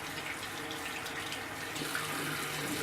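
Cool tap water runs steadily from a faucet into a sink while makeup brushes are rinsed, a constant hiss and splash heard close by.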